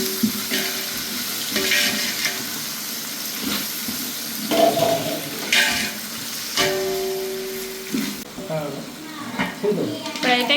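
Mint and coriander frying with ginger-garlic paste in a pan for Muslim-style chicken biryani, a steady sizzle broken by scraping stirs and clinks of a spoon, with faint water-like splashes and a voice talking at times.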